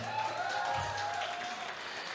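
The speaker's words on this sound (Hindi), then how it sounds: "इसलिए जोरदार ताली होनी चाहिए" Audience applause at the Pathaan film success press meet, a faint, continuous wash of clapping from the crowd with a sustained tone running beneath it and no clear speech.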